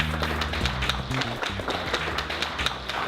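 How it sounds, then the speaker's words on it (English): An audience claps in a brisk, continuous round of applause at a live evening show, with a faint musical tone underneath. "A great round of applause"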